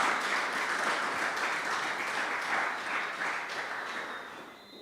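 Applause from the audience at a Grenada National Council for the Disabled sports and culture development event, a broad wash of many hands clapping that holds steady, then gradually fades toward the end.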